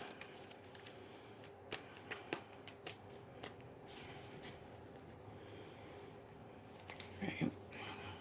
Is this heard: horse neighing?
no